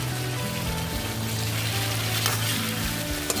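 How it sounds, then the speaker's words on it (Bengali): Potato pieces and ridge gourd sizzle in spiced oil in a pan for a fish curry, a steady close frying crackle with a low hum underneath and no talking. "আলুগুলোকে মশলার সাথে ভালো করে মিক্স করে আর একটু আমি ঢাকা দিয়ে ফ্রাই করব"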